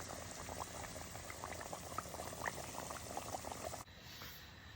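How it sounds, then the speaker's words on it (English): Fries cooking in oil at a light boil, a dense bubbling hiss that runs steadily, then cuts to a thinner, quieter bubbling near the end. "See how we have that light boil?"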